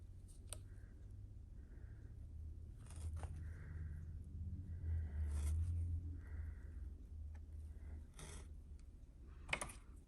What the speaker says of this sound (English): My little snips.